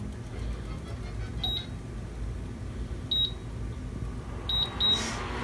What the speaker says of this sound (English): and then I'm going to turn on